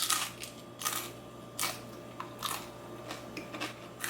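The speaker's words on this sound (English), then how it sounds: "I'm gonna give this a taste for you guys so you can hear the crunch factor again" Loud, crisp crunches of someone biting into crispy oven-baked fries made without oil, several distinct bites spaced apart with quieter chewing in between, close to the listener.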